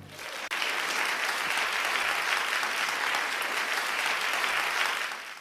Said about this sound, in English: The clapping one, I think.